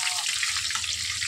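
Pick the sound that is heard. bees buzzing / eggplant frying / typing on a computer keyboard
eggplant frying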